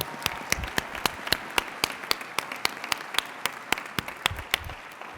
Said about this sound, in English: Let's have a clap right there.